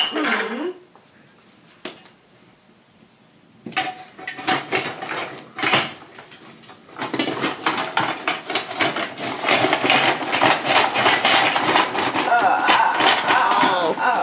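Egg-shaped coal briquettes clatter and clink as they are dropped into a fire, a run of hard knocks and scraping rattles growing denser and louder, with brief talk near the start.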